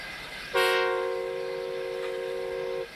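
A cartoon steam locomotive, Thomas the Tank Engine stuck in a mine, gives a single sustained whistle blast lasting about two seconds, loud and clear over a quiet background, with no voices.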